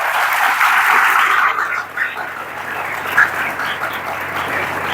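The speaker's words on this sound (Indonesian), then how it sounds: "Beri tepuk tangan." Audience applause at an Al-Qur'an graduation ceremony in a hall, dense steady clapping that thins and dips briefly midway before continuing, loud and close.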